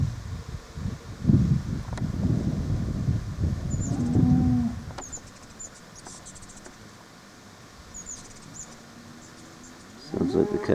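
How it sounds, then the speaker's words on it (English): A cow on a farm lets out a loud, drawn-out moo up close, followed by quieter lowing, with crickets chirring steadily in the background. "Sounds like the cow wants some hay too."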